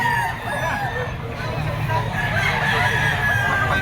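A Gilmore Hatch bullstag gamecock crows amid other roosters and clucking fowl, with a busy murmur of voices and crowd babble running underneath throughout.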